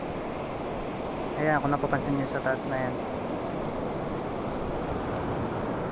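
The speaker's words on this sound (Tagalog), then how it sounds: "Sobrang lakas ngayon oh," Heavy, unusually big ocean surf crashing and roaring continuously up close, with someone talking briefly over the wave noise.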